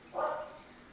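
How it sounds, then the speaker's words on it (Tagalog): A single dog bark from a dog passing by a house outside, one short loud burst early on, then fading into quiet room tone. "May aso yata yung passing by sa bahay."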